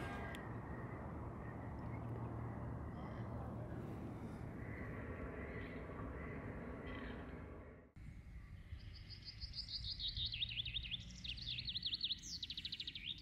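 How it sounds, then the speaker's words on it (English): Bright chirping morning birdsong in Sweden rises in the second half after a steady low rumble, several quick whistled calls repeating close by. "I love the sound of birds in the morning."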